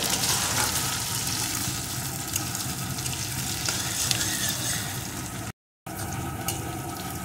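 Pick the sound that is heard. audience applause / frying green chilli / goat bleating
frying green chilli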